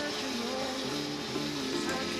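Steady rushing hiss of water flowing through RV plumbing, continuous and even throughout, with a faint tonal hum beneath it and no talking.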